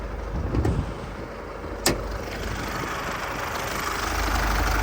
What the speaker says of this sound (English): a nice diesel engine that's running perfectly